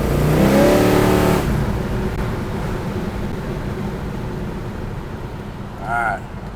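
A 1968 Chevrolet Chevelle SS with a 427 engine drives on, its rising engine note strongest at first, then settling to a steady cruising rumble while a person speaks over it.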